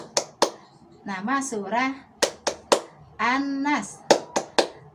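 Sharp rhythmic handclaps in a children's Islamic classroom clap chant, 'Tepuk An-Nas', come in short bursts that alternate with a close chanting voice.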